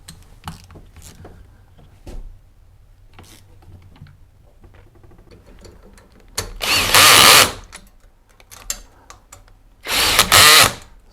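A power tool tightens brake bolts on a Vespa GTS 300 hpe during a brake installation, firing in two loud bursts of about a second each amid quieter workshop clicks and handling noises.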